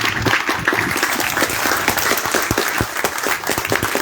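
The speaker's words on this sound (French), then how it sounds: "Je vous demande de l'applaudir bien fort. Bien, bien fort." Loud, sustained applause from a crowd at a filmed radio event in Martinique, dense clapping filling the whole stretch without pause.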